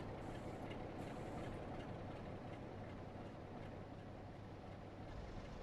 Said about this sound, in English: Another train coming in.